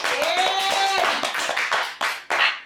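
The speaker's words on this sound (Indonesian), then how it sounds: "Tepuk tangan." Hands clap in a burst of applause, sharp close claps at first, then scattered and fading, under a voice at the start.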